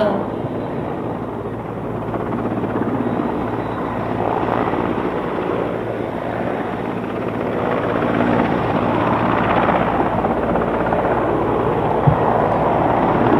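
Mi-17 multi-purpose helicopter used for rope rescue by a Nepal Army team, a loud continuous rotor and engine roar that holds steady and swells slightly, with a voice talking over it.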